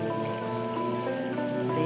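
Continuous splashing water from a decorative fountain and waterfall at a cafe, a steady dense patter and trickle with a low tonal hum underneath, fairly loud and close, no voices.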